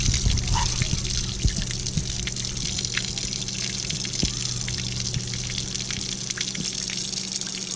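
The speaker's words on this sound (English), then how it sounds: "this thing is just pouring water out of it" Water gushing and pouring steadily out of a leaking Seadoo SP jetski, a continuous close splashing rush with scattered drips, no talk.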